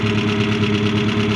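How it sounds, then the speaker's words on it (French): A Peugeot 205 1.4i 75 hp engine runs steadily with a low, even hum and a faint rhythmic vibration, close by, with no talking. "il y a les vibrations du moteur."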